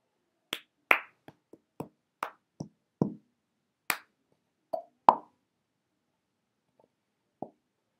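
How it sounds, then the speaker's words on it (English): Cup song rhythm played alone on a cup and hands: a sequence of about a dozen sharp, separate claps and cup taps and knocks, each a short crisp hit, with a brief pause near the end before a final tap. "clap, tap, tap, tap, clap, tap, move over, then clap, put your hand like that, pick it up, tap the top"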